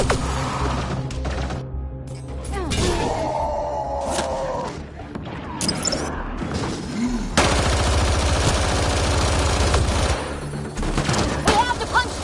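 Gunfire in a video game crackles in bursts amid dense battle noise, loud and close at times, with voices speaking over the action.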